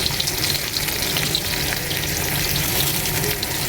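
Shrimp curry with sliced green chillies frying in a pan, a loud, steady close-up sizzle filling the whole stretch, with faint stirring movement underneath and no pauses.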